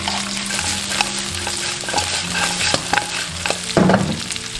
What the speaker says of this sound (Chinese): 下入葱蒜、青红椒，然后炒香。